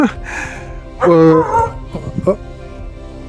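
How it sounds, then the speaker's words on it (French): A dog gives a couple of short yips and barks at close range, mixed in with a person talking nearby. "Il y a un chien."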